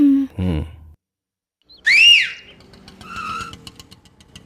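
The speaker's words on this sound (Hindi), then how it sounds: "ऑटो वाले को कैसे बुलाया? सीटी बजाकर।" A person gives a sharp, rising whistle to hail an auto-rickshaw on a street, loud and close, with a second, softer whistle after it and some low traffic sounds around.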